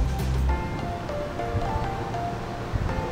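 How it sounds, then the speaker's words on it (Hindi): Water pours steadily at Nanemachi waterfall as a loud, close, continuous broadband rush, with wind-like buffeting on the microphone and a few brief tonal sounds mixed in. "यहाँ पे एक्चुअली जो पूरा वाटरफॉल का पानी आ रहा है"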